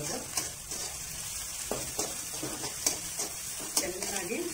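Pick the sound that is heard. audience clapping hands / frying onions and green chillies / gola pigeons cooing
frying onions and green chillies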